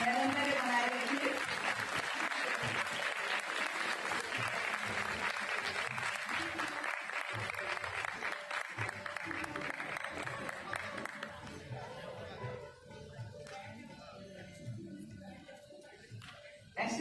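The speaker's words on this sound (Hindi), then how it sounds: "आपकी तालियों की गड़गड़ाहट निरंतर मुझे प्रोत्साहित कर रही है" Audience applause at a music and arts performance in Chandigarh: dense, sustained clapping from a large crowd that gradually thins and fades out, with a voice speaking over the tail end.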